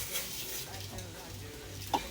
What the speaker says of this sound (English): now that our pancetta and onions are browned, we're going to go ahead and put our risotto in